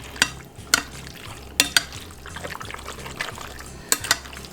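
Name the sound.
stirring garlic chicken marinade in a bowl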